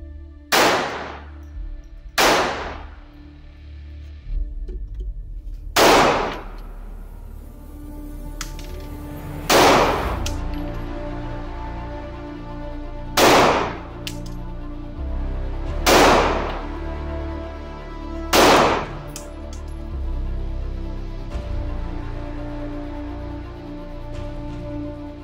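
Seven loud, evenly spaced gunshots from recreational shooting outdoors, each a sharp crack with a ringing tail. Steady background noise fills the gaps between shots.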